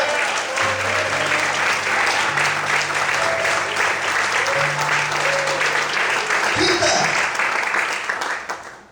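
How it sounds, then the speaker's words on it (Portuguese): A church congregation breaks into sustained, loud applause that fills the room for most of the stretch. Sustained tones, probably music, run underneath, and the clapping tapers off at the end. "Aplauda o Senhor e glorifica Deus."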